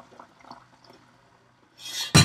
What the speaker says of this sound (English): And then I top it off with more milk so that it's full.